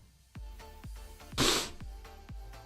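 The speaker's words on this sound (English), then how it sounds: "Oh god, bad sneeze." One loud, sudden human sneeze from a commentator during a Formula 1 practice session watchalong, bursting out alone over a quiet background of soft rhythmic thuds.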